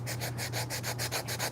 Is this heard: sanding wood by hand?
yes